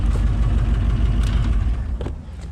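A 7.0 L (427 cubic inch) LSX V8 engine idling in a car, a deep steady rumble close by with slight lope, dropping and fading toward the end as it shuts off.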